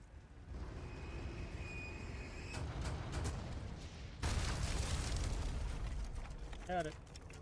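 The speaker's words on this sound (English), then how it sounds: "use the cannon again." A cannon in the Resident Evil 4 Remake fires with a sudden loud blast, followed by a sustained roar and rumble that fade over a few seconds, heard under light talk.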